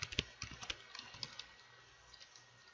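Code being typed on a computer keyboard in MATLAB, a quick irregular run of close key clicks that thins out into a few scattered taps.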